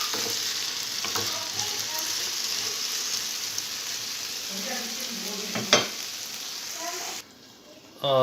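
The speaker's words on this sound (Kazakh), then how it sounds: "картошканы қуырып атырған кезде 1-2 рет араластырып аласыңыздар" Potatoes frying in a pan with a loud, steady close sizzle, broken by a few scraping stirs and a sharp clack near the end before the sound drops away.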